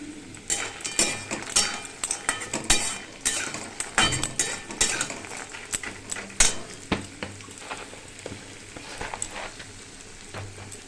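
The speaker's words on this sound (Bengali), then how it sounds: "বড়িটা সমেত পেঁয়াজটা লাল হয়ে ভাজা হবে।" Onions and bori lentil dumplings fry in a pan with a steady sizzle and crackle, while a spatula stirs and scrapes, adding frequent metallic clinks and taps close by.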